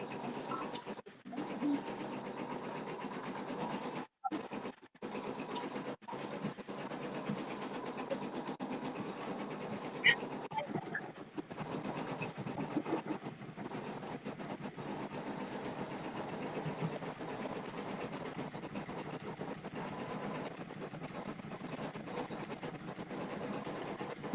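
A sewing machine runs a placement stitch for yarn embroidery on a sweatshirt, with a faint, steady mechanical whir interrupted by a few brief stops and clicks.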